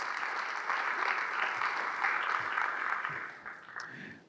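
Audience applause for investors in a city's center and west at a Long Beach civic address, a steady crowd of clapping hands that holds for several seconds before tapering off.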